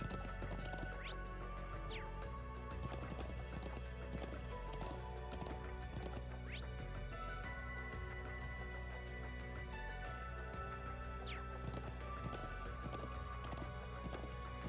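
Horse hooves clip-clop steadily in the video game Trails of Cold Steel II, a continuous rhythmic trot with occasional whinnies, set against game music and ambience.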